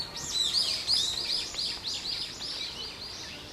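Several small birds chirp and sing in quick, overlapping phrases along a quiet outdoor walking path, steady and fairly close, with no talking.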